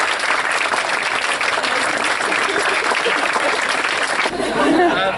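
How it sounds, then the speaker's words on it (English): Guests at a wedding reception give a loud, sustained round of applause that fills the room, dense clapping with a little crowd murmur, thinning slightly in the final second. "Try to round of applause as well."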